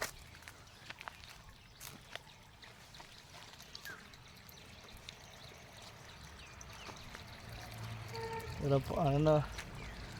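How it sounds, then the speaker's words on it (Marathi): Water pouring and trickling onto plants, a soft continuous splash close by, with a brief voice near the end. "चला आता पाणी घालतोय आपण झाडांना"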